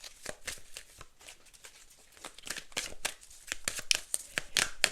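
A deck of oracle cards is shuffled in a quick series of soft, crisp riffles and flicks that grow busier and louder toward the end, close to the listener.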